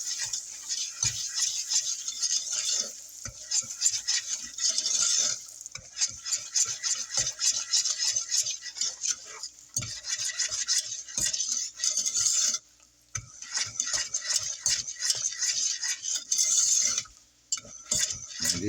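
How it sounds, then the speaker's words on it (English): Brown sugar being stirred into melted butter in a pan, a steady scraping and swishing of a utensil against the pan bottom with faint sizzle, continuous with brief pauses, close up and alone. "we're going in with our cup of brown sugar. Mix that in quite well."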